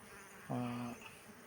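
A short, steady buzz of honeybees entering a hive, lasting about half a second, close by, over a faint background hum.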